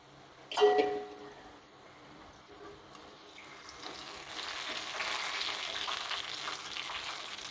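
Homemade singara deep-fry in hot oil, a steady bubbling sizzle that builds and holds after a brief clatter near the start, close and continuous with no talking.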